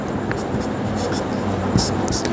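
Pen scratching on paper while working out a class 10 trigonometry exercise, with a few short, faint strokes over a steady room hum.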